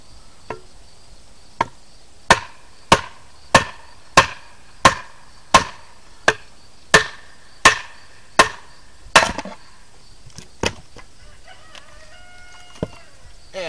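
About a dozen sharp, evenly spaced wooden knocks ring out up close, likely mallet taps driving a split through a firewood log to make a wood carving blank, with a few lighter clicks trailing off at the end.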